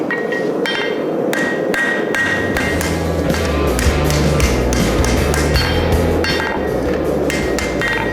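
Hot steel from an old horse rasp being forged into a knife, hammered on an anvil: a quick run of loud, close, ringing metallic strikes, roughly two or three per second, with bright pings over a steady background hum.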